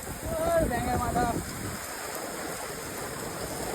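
Rain pours down steadily in a soft, constant hiss while a voice talks over it at first, then the rain continues alone.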